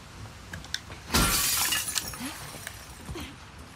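Glass shattering in the video game The Last of Us 2, a single loud crash of breaking glass followed by scattered tinkling debris, with quiet surroundings before and after.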